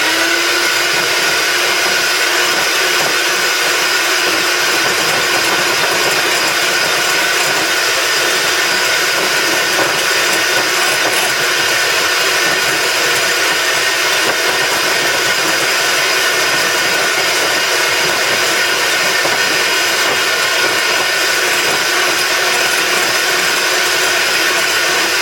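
An electric mixer whips egg whites for meringue cookies toward soft peaks, producing a loud, unbroken motor whir with a constant hiss that holds steady for the full stretch.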